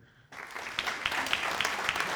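Audience applause at a live comedy show, a dense crackling wash of clapping that starts abruptly after a brief quiet moment and holds steady at moderate level.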